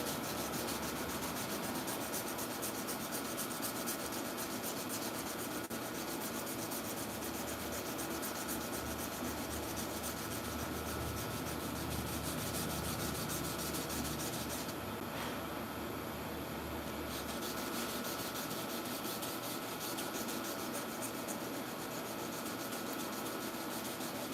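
Steady, continuous rubbing of abrasive paper along a steel sword blade, hand sanding toward 180 grit around the fuller; an even, close scratching texture that runs unbroken throughout with no talk.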